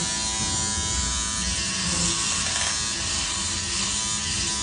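Electric shaver running steadily against a beard, a continuous close buzzing with a faint rasping texture throughout, loud and alone with no talking.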